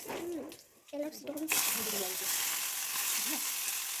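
Dried chillies and a little five-spice hitting hot oil in a small wok, a sudden hiss that jumps up and then holds as a steady sizzle, with someone talking before and over it.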